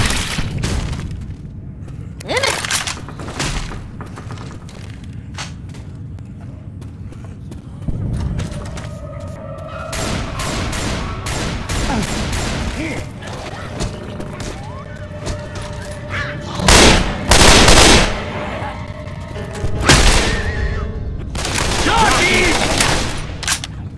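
Rifle gunfire in the Left 4 Dead 2 video game, with bursts of rapid loud shots and booming blasts scattered across the clip over a busy game background, with some voices.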